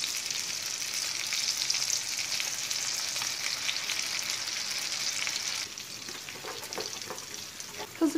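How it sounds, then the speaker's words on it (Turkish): Melted sugar with butter and cream being stirred quickly in a pan makes a steady bubbling sizzle, close and continuous, turning softer and more broken in the last few seconds with faint spoon scrapes. "hızlı bir şekilde karıştırıyoruz."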